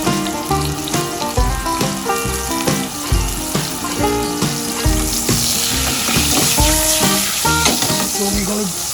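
A fish fillet sears in olive oil in a pan, sizzling loudly and steadily up close, with repeated knocks and scrapes as it is moved and turned.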